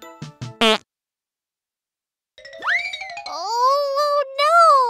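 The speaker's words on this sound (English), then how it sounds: "Someone's farting and running away!" A cartoon fart sound effect in a children's animated story, with short comical bursts at the start, then a pause and a rising, wobbling whistly tone that stretches out, all loud and close.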